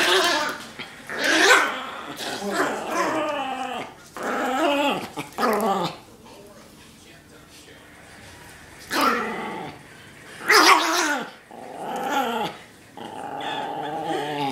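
A dog growls and barks while guarding a mango, its snarls coming in loud, close bursts separated by brief pauses, with a few whimpering tones between them.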